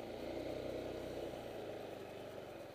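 Dongfang 150cc Ruckus-style scooter engine running on a test ride, a faint steady mid-pitched drone with a slight drop in pitch toward the end.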